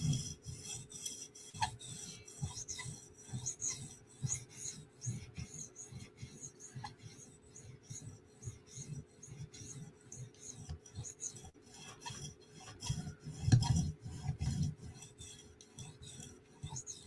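Chris Reeve Umnumzaan tanto knife being sharpened on a fine-grit stone, a quiet, rhythmic series of close scraping strokes that repeat steadily, with one slightly louder pass near the end.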